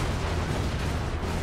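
Explosions from the video game Crackdown 2 roar as a dense, continuous rumbling blast, loud and close with no pauses.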